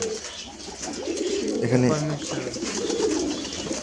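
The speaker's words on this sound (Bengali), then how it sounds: "এটা হলো পাকিস্তানি কবুতর" Pakistani pigeons on a Bengali loft farm coo in low, throaty bursts, a mix of the flock's calls with a clear rolling coo near the middle, heard under a man's close speech and steady background chatter.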